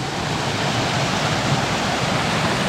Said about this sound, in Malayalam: മുകളിൽ നിന്ന് വെള്ളം ഒഴുകി വരുന്നത്